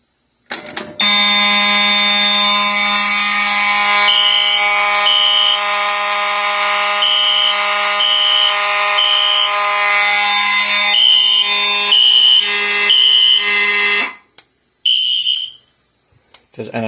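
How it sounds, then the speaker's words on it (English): A Notifier NFS2-640 fire alarm system's horn strobes blare continuously and loudly for about thirteen seconds with pulsing electronic tones, then cut off, followed by brief bursts of noise. "This pulse station is set to set off the GMS and these horn strobes."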